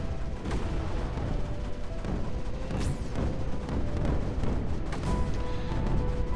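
Mortar turrets firing in the Creeper World 4 strategy game, a dense ongoing barrage of booming shots and blasts layered over constant rumbling battle noise, with a few sharper launches standing out.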